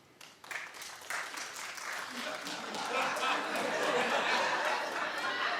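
A studio audience at a daytime talk show breaks into applause that builds and then holds as steady, dense clapping, with a little chatter and laughter mixed in.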